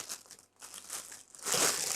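Cardboard packaging from a Canon lens box crinkles and scrapes as it is handled up close, two short bursts of rustling separated by a brief pause, then a louder sustained crumple.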